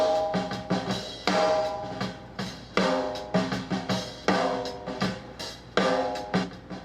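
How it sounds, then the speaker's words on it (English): Snare drum played in a room and picked up by a Shure 57 microphone, a session drummer's groove of repeated sharp hits with ringing decay, some accented louder strokes, close and punchy with no voices. "So let's listen to the snare drum."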